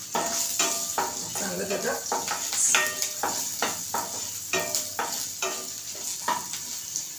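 Oil with a pinch of asafoetida heating in a pan, giving a close, steady crackling sizzle punctuated by regular stirring scrapes, while someone speaks briefly over it.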